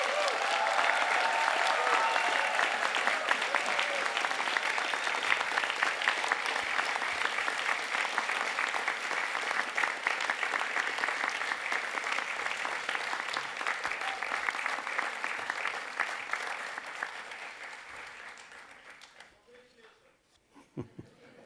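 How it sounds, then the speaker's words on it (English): Loud, sustained applause from a large crowd at a university graduation ceremony, continuing for many seconds before gradually thinning out and fading near the end. "Let's give them a rousing round of applause."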